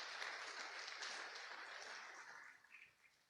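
A church congregation claps during a Sunday service, a soft, distant patter of applause that fades out over the final second.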